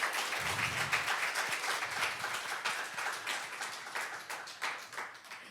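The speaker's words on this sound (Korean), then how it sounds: "조금만 더 큰 박수를 한 번 더 보내주시겠습니까?" Audience applause for a speaker at a breakfast meeting of a women's directors association, a dense crowd clapping steadily and fairly close for several seconds with no talk over it.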